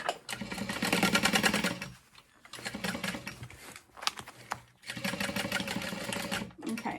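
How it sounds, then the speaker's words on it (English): A sewing machine stitches a small bag lining in three loud, close bursts separated by brief pauses, with faint handling sounds between runs. "while you sew your lining"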